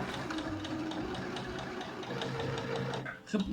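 A sewing machine stitches apron fabric 1 cm from the edge, its close, steady mechanical whir running continuously before slowing and stopping near the end, with a voice briefly heard.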